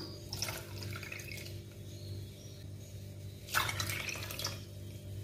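Water from a cup poured into condensed milk while making butterscotch pudding, a soft liquid trickle and drip with two brief splashy bursts over a steady low hum.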